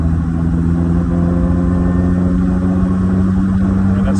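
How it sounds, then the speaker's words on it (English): A Jeep Wrangler on big tires is floored at full throttle in third gear, a loud, steady engine drone with a low rumble that holds close and continuous throughout. "And that's third, and that's flooring it."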